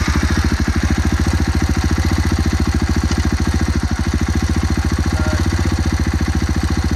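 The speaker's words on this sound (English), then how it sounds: "So when he starts the bike up." A single-cylinder motorcycle idles close by after starting, its rapid, even thumping pulse loud and steady throughout with a metallic clatter on top, no voices.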